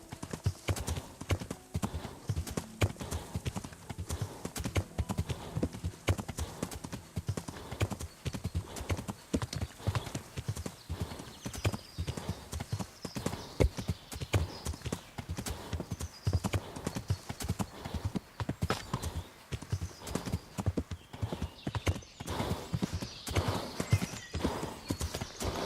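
Horse hooves clip-clopping in steady rhythm throughout, with occasional snorts and a whinny, in the medieval game Kingdom Come: Deliverance; continuous gait at moderate distance with no talk.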